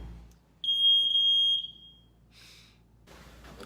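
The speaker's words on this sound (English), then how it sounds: "So right after I was done recording that, the fire alarm went off." A fire alarm gives a single piercing high-pitched beep lasting about a second, loud and close in a quiet room, followed by a brief faint chirp and soft rustling.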